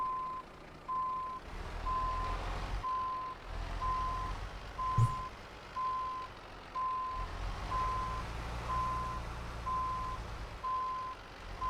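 Steady reversing beeps from a truck backing up outdoors in Southern Spain, evenly spaced tones repeating about once a second over low engine rumble, fairly faint and distant.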